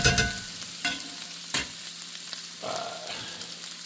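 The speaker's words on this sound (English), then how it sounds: "So, just mix that in." Garlic sizzles in a hot pan on medium-high heat while being stirred, with a steady frying hiss broken by a few scraping strokes of the utensil, close up and without voices.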